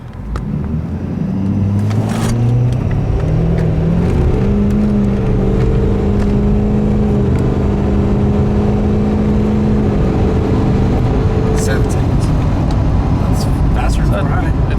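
Ford F-350 2016 6.7 Powerstroke diesel pickup, tuned from 425 to 600 HP, accelerating hard while towing with traction control off, a loud droning engine climbing in pitch through shifts with tire spin, close up, people talking inside.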